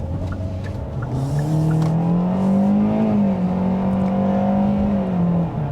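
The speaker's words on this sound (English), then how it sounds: "Now you can hear that the CVT imitated a regular automatic gearbox by stepping down its ratios or stepping up its ratios" A 2023 Kia Seltos 2WD with a CVT drones loudly under acceleration, its engine note climbing, holding and shifting pitch as the transmission steps through simulated ratios like a conventional automatic, heard from close by with no talking.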